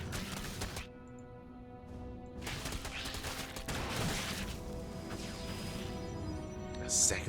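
Units fire on a Gateway in StarCraft with bursts of rapid weapon shots and impacts in several clusters over a background hum. Speech sits in the mix.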